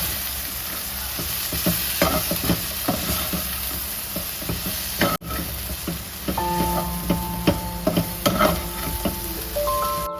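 Cut chapati pieces and chopped omelette tossed and stirred in a hot pan, rhythmic spatula scrapes and clicks over a continuous sizzle, close-up, with a brief dropout midway and no talking.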